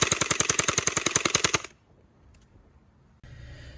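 SRB400 toy gun fitted with a tracer mod firing full auto outdoors, a rapid even burst of about twenty close, sharp shots lasting under two seconds, then near silence and faint background noise.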